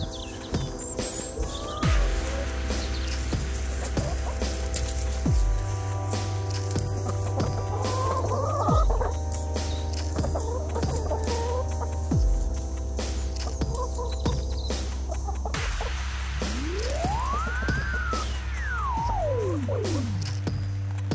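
Chickens on a small English farm cluck and squawk repeatedly, with rising rooster-like calls near and clear over a steady low hum.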